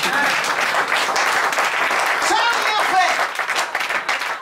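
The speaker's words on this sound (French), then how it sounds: "Donnons quand même une acclamation" A church congregation bursts into loud, sustained applause with cheering voices mixed in, close and steady throughout.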